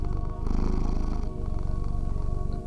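A cat purrs in a deep, continuous rumbling vibration, close and steady, rising slightly in strength partway through and then settling, with no talk.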